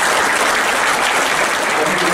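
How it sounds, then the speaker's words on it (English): Steady, dense applause from a graduation audience at the Leech Lake Tribal College 2014 ceremony, filling the room evenly throughout with a faint voice underneath. "So give him a big round of applause for that"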